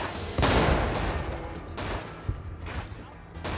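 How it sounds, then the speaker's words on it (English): Gunfire in a modded Fallout: New Vegas, a sharp loud volley opening the moment, then scattered further shots and bursts fading over the next few seconds, with faint voice in places. "Who else is shooting at me?"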